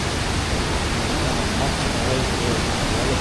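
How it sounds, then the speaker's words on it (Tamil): Rushing water from Valachal Falls in a Kerala forest makes a dense, steady roar, loud and unbroken throughout. "அந்த தண்ணீர் சத்தம் நமக்கு கேட்கும்"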